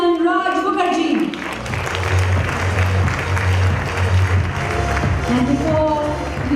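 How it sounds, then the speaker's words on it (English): Gala-night audience applauding as Assemblyman Raj Mukherjee is welcomed; crowd clapping runs throughout under music and some talk, with the sound dipping briefly early on. "Please welcome with a big round of applause, Assemblyman Raj Mukherjee."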